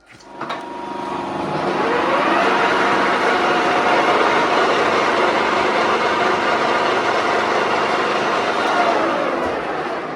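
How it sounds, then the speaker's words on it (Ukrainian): A lathe spins a mounted disc, with a steady whirring drone that builds over the first couple of seconds and then holds level and fairly loud, with no talking. "І він крутиться в токарному станку рівненько, як як сльоза."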